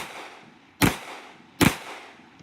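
Two sharp, loud gunshots about a second apart during a practical shooting stage, each a sudden blast with a short ringing decay, close by and without talk.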